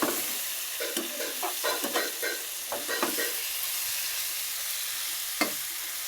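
Sweet pumpkin frying with dried shrimp in a pan, a steady sizzle under repeated scraping stirs of the spatula, several quick strokes early on, then quieter frying with one last sharp scrape.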